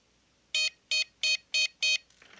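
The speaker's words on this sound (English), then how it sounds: "Some kind of fucking buzzing sound." A 12V automotive relay buzzing instead of clicking gives five short, evenly spaced, loud tonal bursts, each about a tenth of a second long, followed by a brief faint rustle.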